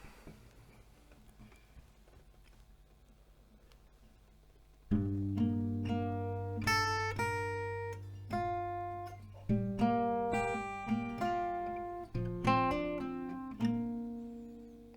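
After a few seconds of faint ticking, an acoustic guitar plays a melody slowly, each plucked note ringing out and fading before the next.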